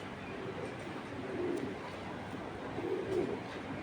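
Foreign fancy pigeons, such as ice bar, red choker mille and grizzle types, coo in low, throaty bursts, with two louder swells over a steady murmur of close flock noise.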